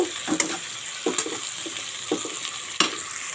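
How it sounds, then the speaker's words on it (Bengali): Tomato, whole garlic and chopped green chili fry in a pan, a soft continuous sizzle broken by several sharp stirring scrapes and clinks spaced irregularly, close by with no talk. "আমি কিছু গোটা রসুন রেখেছি এই কথাও দিয়ে দিলাম আর এই যে কুচনা লঙ্কা এটাও দিয়ে দিলাম এগুলোকে একটু সুন্দর করে ভেজে নেব"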